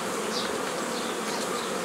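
Honeybees shaken from a hive onto comb frames holding honey buzz densely and continuously nearby, a steady swarm hum with no voices.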